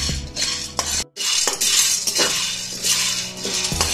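Coffee beans roast in a pan on a low flame while a spoon stirs and scrapes them, making dense rattling and metallic clinks that break off for an instant midway before resuming, up close and loud.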